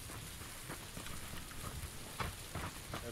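Steady rain pattering across surfaces in PUBG at night, a dense constant hiss with faint droplet taps, fairly quiet and uninterrupted.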